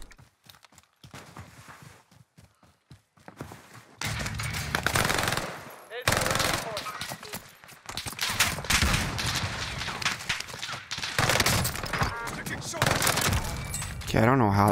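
A BAR rifle with a 40-round magazine fires in bursts in the Warzone Pacific video game, with sharp, loud, rapid gunfire cracks mixed with footsteps and other game noise over a steady bed of in-game sound.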